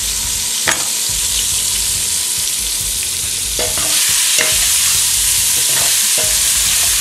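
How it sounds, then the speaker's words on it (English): Venison pieces sizzle and fry in a hot pan while browning for goulash, a steady loud crackle with occasional stirring scrapes and clinks, no voices. "The rest of the meat is nice and brown."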